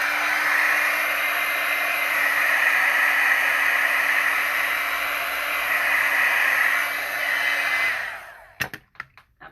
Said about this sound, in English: Got my friendly friend Mr. Heat Gun.